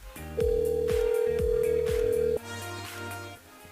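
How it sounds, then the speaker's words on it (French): A radio station's switchboard calls a listener on air, giving a loud steady ringback tone over a rhythmic music bed, then the tone cuts off abruptly and the music carries on. "C'est parti, nous appelle Claudette sur le standard de la radio"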